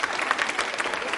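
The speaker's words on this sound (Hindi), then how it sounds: "तालियां बजाइए इन सभी के सम्मान में।" A crowd applauding steadily at a university quiz show, a dense wash of many hands clapping at moderate loudness throughout.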